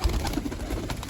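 Pigeons coo softly and close by over a steady background hum, with low murmuring calls repeating through a short stretch.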